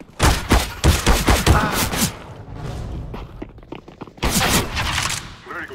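Rapid bursts of gunfire from Counter-Strike: Global Offensive come in two loud volleys, with quieter thuds and footsteps between them.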